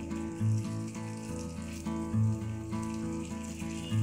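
Palak vadi pieces frying in oil on high flame and being turned over: a steady sizzle with soft rhythmic bubbling and a few clinks as pieces are flipped, fairly quiet throughout.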